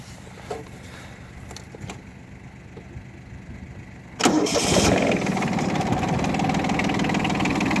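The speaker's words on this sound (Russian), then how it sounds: "Давайте запустим трактор." Small wheeled tractor engine cranks with a few clicks and knocks, then catches about halfway through and settles into a steady, fairly loud idle that runs to the end.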